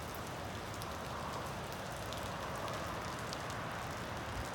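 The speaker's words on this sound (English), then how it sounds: "Guys, it is raining right now." Steady rain falling outside, a dense continuous hiss of drops on surfaces with faint scattered pattering, even and unbroken throughout.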